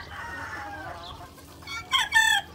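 Chickens cluck softly nearby in a backyard flock, building to a couple of brighter, louder calls near the end over low background noise.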